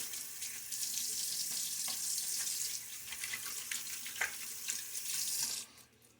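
Tap water running into a sink while preparing to shave, a steady close hiss of flowing water that continues throughout, then stops abruptly near the end.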